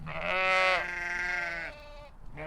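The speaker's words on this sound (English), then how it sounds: "we've got some sheep also to keep us company" A sheep bleats close by in a long wavering call, then another short bleat begins, with soft outdoor background on a golf course on Cruit Island, Ireland.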